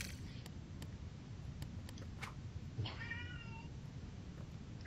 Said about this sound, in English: Oh, your cat, the cat says stop the video.